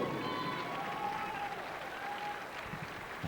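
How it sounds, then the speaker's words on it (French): Arena crowd applauding at a short track speed skating competition for the six finalists, a steady, moderately distant wash of clapping with a faint tonal hum and murmuring voices underneath. "une bonne main d'applaudissements pour nos 6 finalistes"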